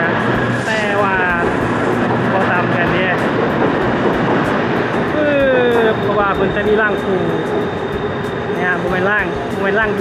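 An elevated metro train on Bangkok's Silom Line rumbles past near National Stadium station with a steady roar, wheels and motors whining through changing tones, while people talk nearby over the continuous noise.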